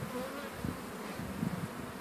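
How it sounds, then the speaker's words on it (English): Honey bees knocked into a bucket for an alcohol-wash varroa check buzz in a continuous, faint, wavering drone, with a few louder swells as individual bees fly close. "So I've knocked the bees into this bucket here so that I can make sure that the queen is not among them."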